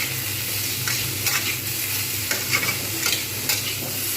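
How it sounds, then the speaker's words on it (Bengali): Drumsticks and flat beans fry in a pan and are stirred, a steady loud sizzle with repeated spatula scrapes and knocks, close and alone with no talking. "এরকম করে আমি কিন্তু নাড়তে থাকছি"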